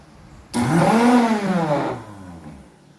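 A multi-function blender motor spins up sharply and runs at high speed for about a second and a half, a loud rising whir that then winds down, with no talking.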